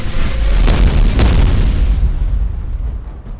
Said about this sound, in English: Let me Orbital Strike you, though.